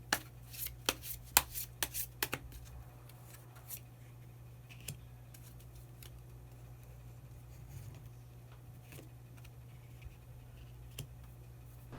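Tarot cards shuffled and drawn at close range, a quick burst of crisp flicks and snaps early on, then sparse soft taps and slides over a steady low hum.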